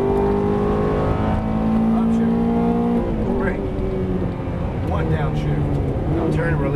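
A Ferrari F430 downshifts on a race track at Exotics Racing Las Vegas, its engine tones stepping down sharply with blips as gears drop, close and loud under an instructor's voice.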